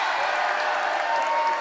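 Crowd noise from a high school volleyball match between Perham and Frazee, a steady dense roar of cheering and applause in a gym that holds level throughout without pause.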